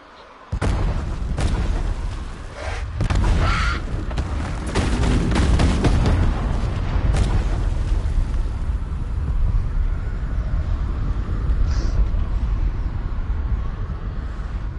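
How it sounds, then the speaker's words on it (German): A booming video game explosion bursts out, followed by a long rumbling roar and crackling debris that fades slowly into noise. "Wow, die Explosion sah ja scheiße aus."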